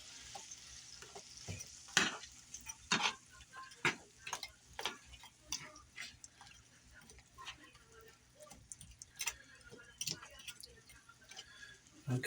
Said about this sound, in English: Stir it up a little bit. Put some of the flavors in there.